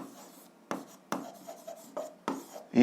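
Pen or pencil scratches across paper while an algebra equation is written out, short bursts of scribbling strokes separated by brief pauses, close and fairly quiet with no talking.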